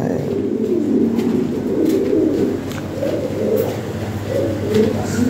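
A group of Lahori Sirazi pigeons coo in a steady, overlapping murmur, close by and continuous, with faint background noise and no clear speech.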